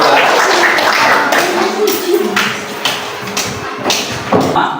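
A classroom group claps for group 3, producing a dense, loud wash of hand claps and taps that runs throughout, with some thumps mixed in.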